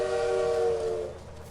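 A bird in the video game Little Witch in the Woods mimics a train, giving one sustained, horn-like whistle tone that holds steady and then fades out within about a second.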